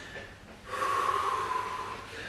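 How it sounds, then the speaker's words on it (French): Heavy breathing after a cardio workout, starting with a quiet breath and then a long, loud, rasping exhale close to the microphone, with no talking. "Je reprends un peu mon souffle"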